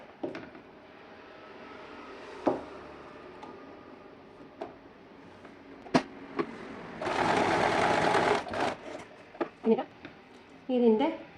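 A sewing machine stitches a slit in a skirt in short bursts, with one steady run of rapid stitching in the middle and scattered clicks and handling noises between, while a person speaks.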